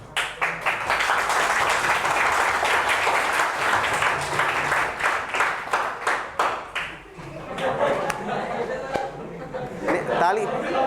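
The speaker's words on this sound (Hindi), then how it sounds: "घटिया ताली नहीं बजाओगे, बनाओगे तो जोर से बजाओगे" Loud, sustained clapping from a classroom of students fills the room, with dense irregular claps that thin and grow more scattered toward the end while some voices murmur underneath.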